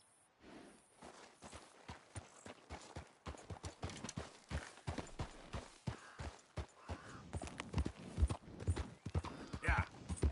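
Horse hooves clip-clop steadily beneath a ridden horse in the video game Red Dead Redemption 2, close and rhythmic throughout, with quiet breathing and movement noises layered in.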